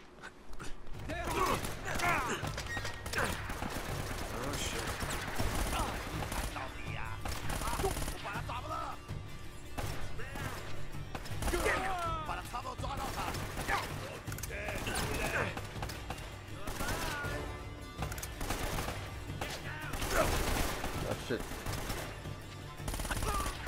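A newly picked-up gun firing in the action game Uncharted, with repeated rapid shots and mechanical clatter continuing throughout amid dense game noise, while someone talks over it.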